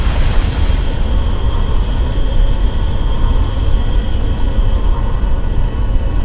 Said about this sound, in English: Engage your afterburner to close within 150 meters of drone 2.